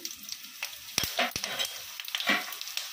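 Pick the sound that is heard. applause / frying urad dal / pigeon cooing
frying urad dal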